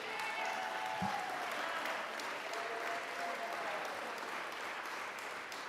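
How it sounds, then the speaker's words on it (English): Audience applause for an honoree at the Mayor's Arts Awards ceremony, a steady wash of clapping heard at some distance in a large hall, with a faint tonal hum and one low thump early on. "One more round of applause for Chris."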